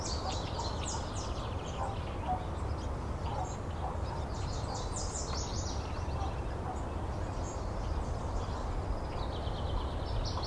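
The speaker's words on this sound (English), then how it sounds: "So there's a lot more birds in this recording than anything else." Many birds chirp and call over a steady hiss of background noise in a residential neighborhood, the calls fairly faint and scattered throughout.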